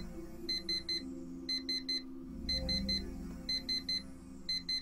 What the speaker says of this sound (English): That fucking alarm.